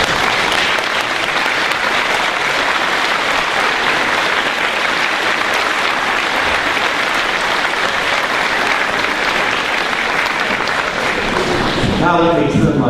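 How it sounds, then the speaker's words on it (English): A large standing audience at a school graduation commencement claps loudly and continuously for a long stretch, a thick even wash of applause that holds steady before tapering near the end. "would you all please stand so that we could thank you with our applause"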